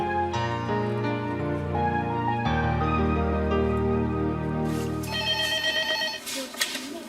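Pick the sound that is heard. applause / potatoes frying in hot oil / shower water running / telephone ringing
telephone ringing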